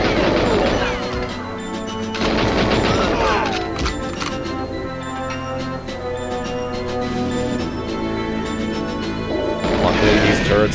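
Rapid turret gunfire and crashing impacts from the Nintendo 64 game GoldenEye 007, loud and continuous over a game music backdrop with dense bursts throughout.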